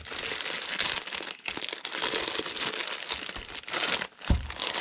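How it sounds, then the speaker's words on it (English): Packaging of a vintage 1983 Hasbro pet toy being ripped open, loud continuous crinkling and tearing of plastic and card close up, with a brief thump near the end. "Let's just rip this open."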